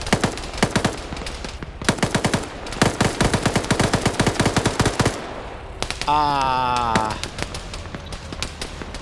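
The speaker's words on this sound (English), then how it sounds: "What are you shooting at?" Automatic gunfire in a multiplayer video game match, rapid loud bursts of close shots in several volleys, a pause, then a sustained whirring tone with further scattered shots.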